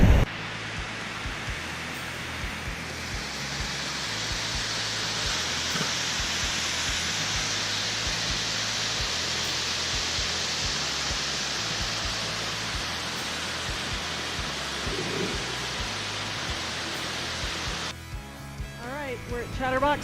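Chatterbox Falls waterfall roaring as a steady, dense wash of broadband noise that holds evenly for most of the stretch, then cuts away abruptly near the end to quieter sounds.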